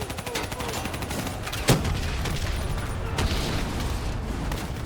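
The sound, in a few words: gunfire at a VTOL in the video game Call of Duty: Black Ops III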